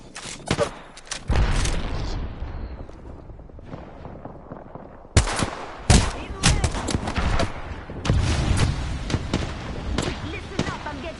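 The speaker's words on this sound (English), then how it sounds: "Listen up, I'm getting shot at." Rapid gunfire and explosive bursts in an Apex Legends Season 2 battle on PS4, dense crackling volleys and sharp shots near and loud, with a voice talking over the fighting.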